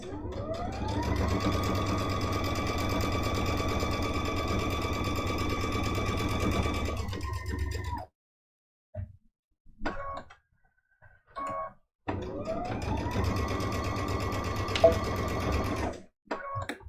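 A sewing machine runs a steady back stitch on a quilted Christmas stocking mug rug, a long even whir that stops, followed by a brief pause with small handling noises, then a second sustained run of stitching.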